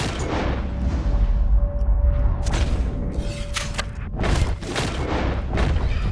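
Gunfire from a rifle aimed at a rabbit while hunting in the Western video game Red Dead Redemption 2, with heavy booming reports over an ambient outdoor bed and a loud second burst near the end.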